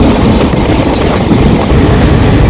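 Steady, loud rumble of a passenger train running near Shoranur, Kerala, a dense low roar with rushing wind noise, continuous and close for the whole stretch, with no voices.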